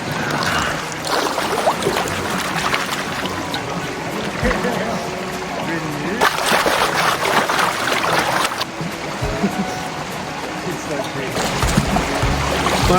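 Water sloshes, splashes and trickles as a gold pan is swirled in the creek water of Reedy Creek, with a steady shallow-water wash nearby and people talking over it.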